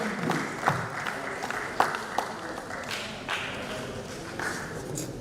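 Scattered applause from an audience at a Nigerian Union of Journalists press week ceremony, thin and uneven with a few louder claps and thuds over a murmuring room.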